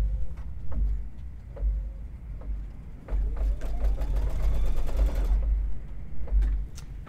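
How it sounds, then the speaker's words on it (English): Embroidery machine stitching a plate cozy in a magnetic hoop, running with a rapid mechanical chatter and hum that pauses briefly, then resumes steadily, close by. "I'm going to go ahead and hit embroidery. And let's let it embroider."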